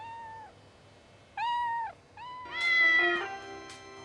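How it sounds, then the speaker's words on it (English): Cats meow several times from the next room in the Postal 2 video game. The calls are drawn-out and somewhat plaintive, with a longer overlapping yowl near the end, all at moderate volume over a low hum. "They're experimenting on cats in the next room over."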